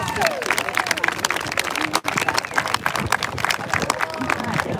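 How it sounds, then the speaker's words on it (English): A crowd at a national candlelight vigil for the missing applauds a Texas outreach coordinator, with loud, busy clapping alongside cheers, a whoop and scattered voices throughout. "Y'all give her a round of applause."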